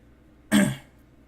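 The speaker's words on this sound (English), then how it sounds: "I apologize in advance for my cough." A single harsh throat clearing, close to the mic and fairly loud, bursts out and fades within about half a second, with no talk around it.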